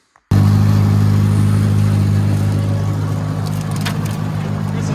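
A Farmall 404 tractor engine runs while bush hogging weeds, cutting in abruptly and then holding a loud, steady, close-up drone.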